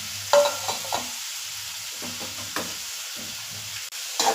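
Chopped bottle gourd sizzles in hot ghee as a spoon scrapes and stirs through it in a pan, intermittent clatters over a low frying hiss, close and clear with no speech.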